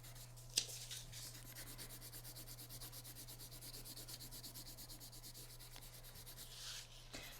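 Crayon rubbed over marker on a Frankenstein monster mask, a soft steady scratchy rubbing that runs continuously and close, faint, over a low constant hum with no talking.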